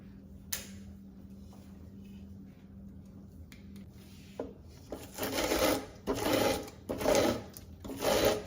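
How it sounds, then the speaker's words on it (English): Fresh corn being cut off the cob by hand with an old-fashioned manual corn cutter, heard as a series of rough rasping strokes that grow louder and more rhythmic toward the end, close by with no talk. "Once I get the corn cut off the cob with a corn cutter"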